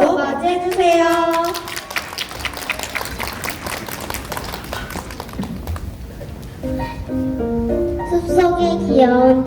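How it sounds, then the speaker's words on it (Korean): Audience clapping steadily at an elementary school arts festival before a first- and second-grade play of The Three Little Pigs, a dense patter of hands that swells, thins out and gives way to a voice and music. "다 함께 큰 박수로 맞이해주세요"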